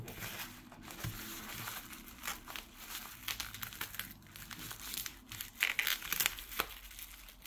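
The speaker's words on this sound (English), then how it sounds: "I've got some scissors here. Should help me open it." Crinkly plastic packaging around a shipment of 1oz silver coins being handled and cut with scissors, with scattered snips and rustles close by, no talking.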